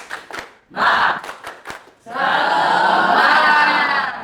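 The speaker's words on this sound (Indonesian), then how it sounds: "coba kita tepuk semangat dulu" A classroom of students performs a rhythmic group clapping routine, with a few sharp spaced claps followed by a burst of loud collective clapping and shouting voices that holds to the end.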